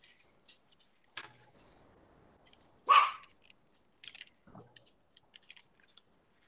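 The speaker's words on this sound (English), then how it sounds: "Quiet, puppy." A puppy barks in a quiet indoor room during an art session, with one sharp, fairly loud bark standing out among scattered small taps and clicks.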